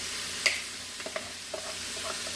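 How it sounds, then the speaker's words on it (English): Ham hits an already hot pan and sizzles softly, with a brief louder clatter at the start and a few light stirring knocks over a low, steady hiss. "So I'm going to dump these in here. You can hear the sizzle, so you know the pan is already hot."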